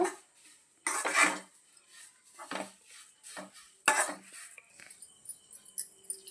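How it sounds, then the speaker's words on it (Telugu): Drumstick leaves are fried dry and stirred in a pan, heard as sharp, intermittent scrapes and clinks of a metal utensil against the pan, with quiet gaps between strokes. "దోరగా ఫ్రై చేసుకోవాలి."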